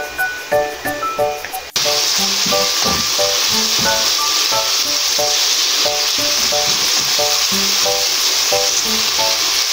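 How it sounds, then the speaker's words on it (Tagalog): Garlic and tomato sauté in a pan, opening with music and then a loud, steady sizzle with stirring scrapes running throughout under the music. "Next po natin ng bawang at igisa. Yan, isunod po natin itong ating kamatis"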